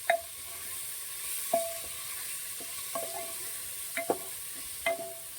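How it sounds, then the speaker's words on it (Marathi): A spoon stirs khichdi with tomatoes in a metal cooking pot, giving sparse clinks and scrapes against the pot over a faint steady simmer, close and fairly quiet, no talking. "खिचडी हलव चांगलं"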